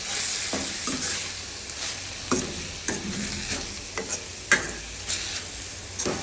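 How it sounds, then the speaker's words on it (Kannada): Harive (amaranth) greens frying in a pan while being stirred, with a steady sizzle broken by repeated scraping strokes of a spatula at an irregular rhythm, close and clear. "ಈ ರೀತಿ ಫ್ರೈ ಮಾಡ್ಕೊಳ್ಳಿ"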